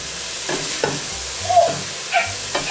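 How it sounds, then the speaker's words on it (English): Onions sautéing in olive oil for lasagna, a soft steady sizzle punctuated by several spoon clinks and scrapes against the pan. "nothing like olive oil and sauteing the onions"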